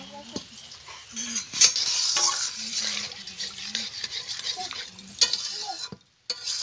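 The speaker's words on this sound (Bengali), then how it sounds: "মশলাটা কষানো হয়ে গেছে, এবার জল দিয়ে দেবো।" Spiced cabbage curry cooks in a pan just after water is poured in, with a soft bubbling simmer and repeated scraping and clinking of a spoon against the pan, plus a brief voice.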